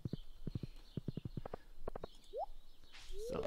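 Horse hooves clip-clop in Stardew Valley, a steady run of light, evenly spaced taps passing close by at a trot, with a few soft game chimes near the end.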